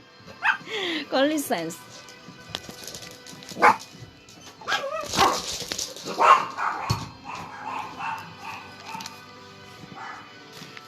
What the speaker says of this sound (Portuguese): vou tirar minha cachorra que está fazendo barulho porque minha família chegou